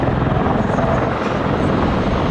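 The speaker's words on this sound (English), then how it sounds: "Während der Hubschrauber den Flugweg entlang der Landebahn einhält, muss der Pilot nur aufs Ruder treten und er dreht sich um die eigene Achse." A Sikorsky CH-53K King Stallion heavy helicopter during an airshow flying display, a loud continuous rotor and turbine roar with steady beating, close and unbroken throughout.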